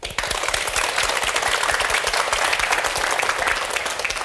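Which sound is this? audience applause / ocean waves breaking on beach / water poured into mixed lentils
audience applause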